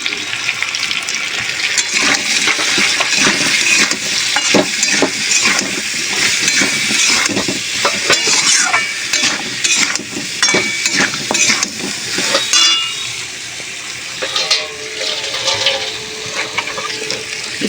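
Spices sizzle in hot oil in a pan with slit green chilies, salt and turmeric powder, stirred steadily with scraping strokes; the frying is loud, close and continuous, with no talking.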